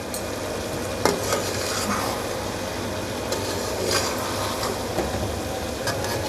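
Cauliflower and potato sabzi stirred in a pan over high heat as it dries out, with a steady sizzle and intermittent scrapes and clinks of the spoon against the pan.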